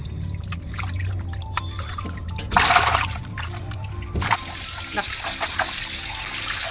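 Water poured over catfish (koori) set in a colander to rinse them, a trickling, splashing flow that swells into two louder gushes partway through, heard up close.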